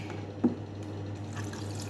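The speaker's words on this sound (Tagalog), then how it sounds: "Lagyan natin ng tubig." A small splash of water is poured into a cooking pot of paksiw na isda with kangkong, a soft, brief trickle over a steady low kitchen hum.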